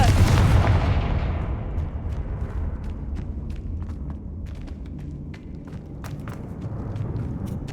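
A Confringo fire spell bursts in Hogwarts Legacy, opening with a loud, booming blast that rolls off into a long rumbling decay. Scattered sharp crackles and small impacts follow, with no voices over it.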